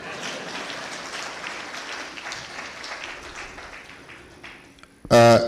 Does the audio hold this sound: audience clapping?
yes